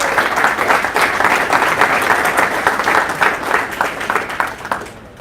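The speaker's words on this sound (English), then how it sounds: "big round of applause for all of our sponsors today" Sustained applause from a conference audience at an avalanche science workshop, steady and fairly loud, with dense overlapping hand claps that hold for about five seconds before thinning slightly at the end.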